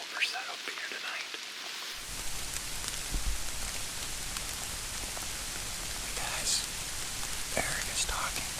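Steady rain falls through the trees in mid-October Wisconsin big woods, a soft continuous hiss with scattered drops, while a voice whispers faintly at times.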